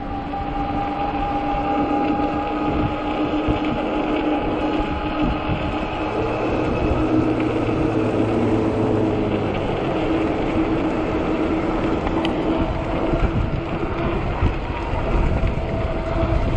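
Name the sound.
strong wind blowing on a fat tire e-bike ride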